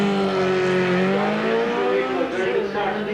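A Honda 1100cc streetbike launching from a standing start in a 1988 quarter-mile streetbike drag race, its engine wailing loud and close as the pitch climbs and dips through the gears.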